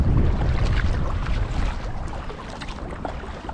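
Wind rushes steadily around a kayak paddling through Conwy harbour, a loud, close, broadband buffeting that eases only slightly over time, with no voices.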